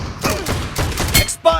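Shotgun blasts in the PUBG Mobile video game: several loud, close booms in quick succession with thuds between them, followed by a short electronic game chime at the end.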